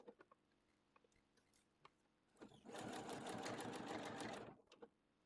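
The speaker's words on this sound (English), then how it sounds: "we're going back over to our sewing machine and we're going to sew this in" A sewing machine stitches a dress seam in one loud, steady two-second burst of rapid needle chatter, preceded and followed by quiet fabric handling and soft clicks, with no talking.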